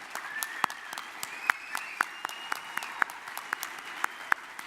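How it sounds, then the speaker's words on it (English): Scattered applause with sharp individual claps popping out of a steady patter, moderately distant, no voices. "let's give them a round of applause"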